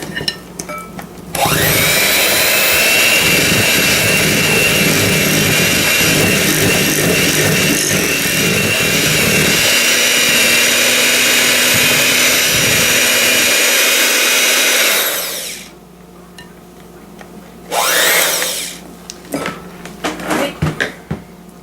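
A loud electric mixer beats apple cake batter with vanilla, running steadily for about fourteen seconds, then cutting out, followed by a short second burst and a few clatters.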